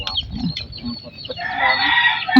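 Chickens and chicks cluck and peep up close, with a rooster-like call rising near the end, a short burst of farmyard fowl noise.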